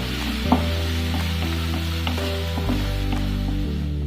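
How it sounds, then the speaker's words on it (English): Ginger, garlic, onions and curry leaves fry in mustard oil in a pan, a close, steady sizzle with occasional soft taps and stirring, under a constant low hum. "Now we will nicely fry our ginger, garlic, onions and the curry leaves"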